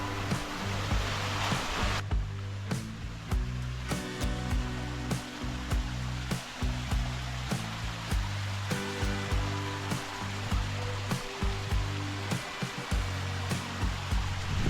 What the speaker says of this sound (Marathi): हा प्रवाह सतत बारा महिने चालू असतो